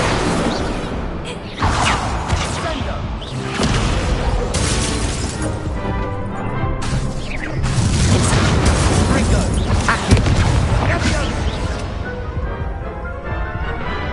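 An Incendio fire spell blasts in the video game Hogwarts Legacy amid a busy duel, with repeated fiery bursts, whooshes and shattering impacts layered over game music and voices.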